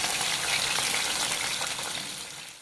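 Pieces of rohu fish fry in hot oil for a fish curry, giving a steady, close, dense sizzle that hisses evenly throughout and fades slightly toward the end.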